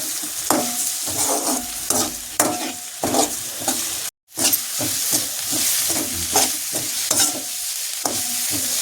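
Egg poriyal fries in a pan with yellow turmeric, pepper and salt, a steady close sizzle under repeated scraping stirs of a spatula. The sizzle breaks off for a moment before the stirring resumes, with no talk.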